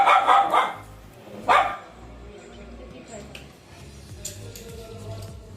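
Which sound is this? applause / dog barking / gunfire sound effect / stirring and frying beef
dog barking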